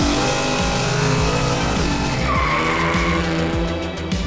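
A front-engine drag racing car roars loud and close with a dense harmonic engine drone, tires squealing over it throughout, no voices present.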